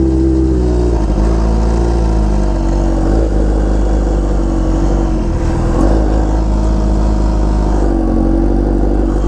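A Kawasaki Ninja H2R superbike engine roaring loud and close while riding, holding a steady high drone with small swells in revs and heavy wind rumble underneath.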